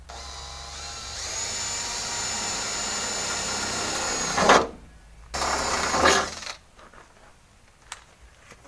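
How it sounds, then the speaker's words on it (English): A power drill whines steadily into metal for a few seconds while drilling holes for a bonnet protector on a Nissan GQ Patrol, stops, then runs again briefly, with scraping and clinking as it halts. "drill these holes in the centre of that crossways slotted hole"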